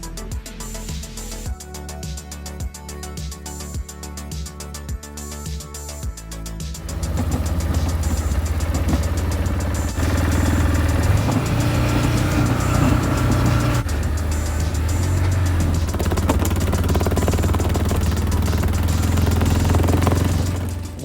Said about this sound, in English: I got out our ATV to load up all the wood and take it back into the trail